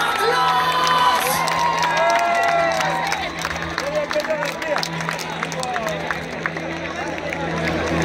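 A live audience claps, cheers and whoops for a singer at a concert. The crowd noise is loud and steady throughout, with whistles and shouts over a backing tone.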